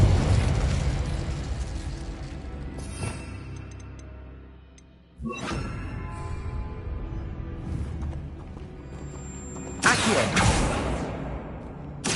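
Fire and force spells are cast in the video game Hogwarts Legacy, giving repeated whooshing blasts and fiery bursts in clusters, with sharp loud onsets around the middle and near the end and quieter crackling tails between them.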